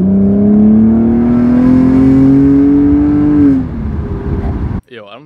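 A loud, modified car engine holds a steady, throaty rev that climbs slightly, then drops off sharply near the end.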